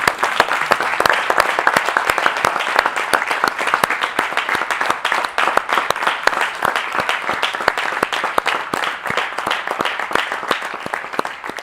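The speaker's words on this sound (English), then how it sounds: "Give Mr. Who a hand clap." A crowd applauds steadily, dense hand clapping filling the space without pause, loud and sustained throughout.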